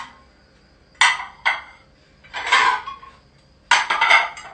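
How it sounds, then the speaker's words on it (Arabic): Dishes being unloaded from a dishwasher and stacked away, with four clattering bursts of clinking plates and cutlery separated by quiet pauses, close by. "ملي تخوى الماكينه كنبدا نحط الماعن"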